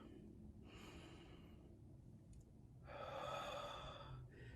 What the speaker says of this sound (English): Take a breath with me.